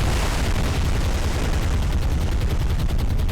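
Dense, continuous rumbling bombardment and gunfire in the naval combat game War on the Sea, loud and unbroken, with a rapid rattling of shots toward the end.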